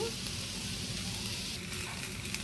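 Onions sauté in a pan as the start of a spicy Sri Lankan-style shrimp gravy, a continuous low sizzle that stays even and quiet throughout, close up with no talking.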